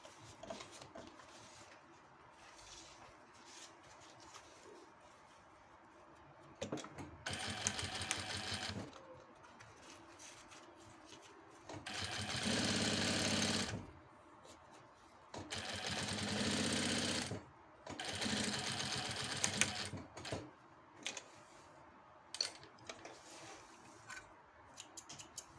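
A sewing machine topstitches a seam on a fabric Easter toiletry bag, running in three separate bursts of fast mechanical whirring. Quiet pauses with faint handling noises fall between the bursts, and no one speaks.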